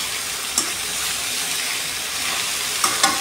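Bitter gourd fries uncovered in a pan with a loud, steady broadband sizzle and hiss, broken by a few soft clinks from stirring, close up and without talking.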